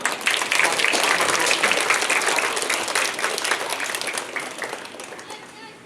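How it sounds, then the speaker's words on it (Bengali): A crowd applauds at a school tree-planting event, dense, sustained clapping that starts strong and slowly thins and fades over several seconds. "করতালির মাধ্যমে"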